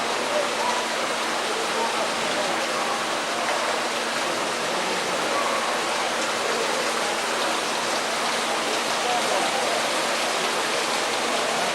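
Water of a stream rushing out beneath a walleye hatchery building into Scriber Creek, a constant broad hiss and burble, steady and close throughout with no voices.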